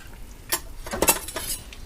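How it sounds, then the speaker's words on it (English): A fork and large spoon scrape and clink against the metal pot of a pressure cooker while lifting out a whole chicken cooked with root vegetables, giving a few short, bright utensil clatters close by with no talking. "Let's see if we can get this thing out with a fork and a large spoon."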